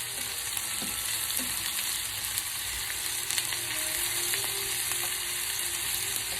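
Onions frying in a pan, a steady dense sizzle with a few soft crackles and stirring scrapes, continuous and fairly loud with no voices.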